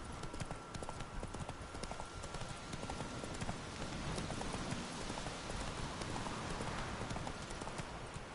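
Horse hooves clip-clopping steadily in the Witcher 3 video game, Roach trotting at an even rhythm under a dense wash of rain-like ambience, moderately faint and continuous.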